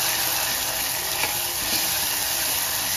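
Turmeric and asafoetida are stirred into a sizzling pan of spiced drumstick pod curry with tomato, a close, steady hiss of frying oil with faint scraping throughout.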